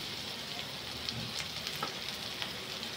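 Turmeric, chili powder, salt and masala frying in a pan while being stirred, a steady close hiss and sizzle with faint scraping throughout, no voices.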